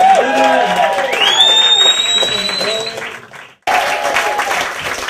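A comedy club crowd applauds and cheers for a comedian, with high whoops over steady clapping that fades out, then a sudden cut back into loud clapping.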